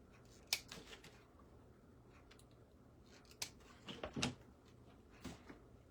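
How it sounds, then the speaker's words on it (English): Scissors snip flower stems for a fall pumpkin floral centerpiece, with several sharp, close cuts at irregular intervals over a quiet room background. "I'm going to cut all of these off"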